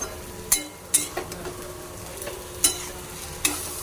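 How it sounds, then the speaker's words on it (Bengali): A spatula stirs elephant foot yam stem curry with poppy seed paste and salt in a pan, producing a soft frying hiss punctuated by several sharp scraping clacks at irregular intervals. "এবার নাড়িয়ে নেব।"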